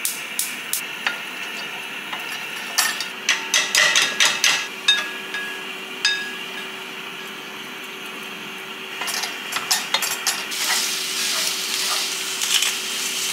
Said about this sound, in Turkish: Şimdi sebzeleri hafif yağda bir çevireceğim.